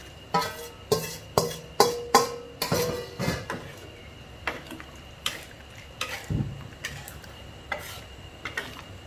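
Metal utensils clatter and scrape against a pot as pork is added and stirred into simmering coconut-milk panang curry, with sharp irregular knocks, some close and loud, then softer scrapes.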